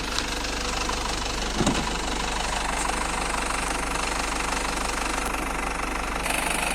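A 2001 Isuzu Dragon 2.5 SX pickup truck engine idling nearby with a steady low rumble and faint rhythmic knocking, running continuously without revving, no voices.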